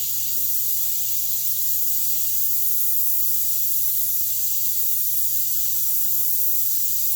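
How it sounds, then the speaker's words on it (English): A steady, even airbrush hiss sprays paint over a repaired spot on a Chevelle car body, continuous and close for the whole stretch with no talking. "So now I just go in and even it out with the airbrush."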